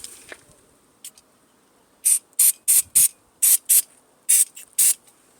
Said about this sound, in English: Give it a spray down.